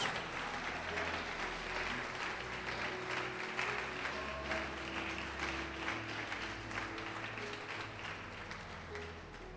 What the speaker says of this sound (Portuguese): Pode aplaudir o Senhor e glorificar a Deus.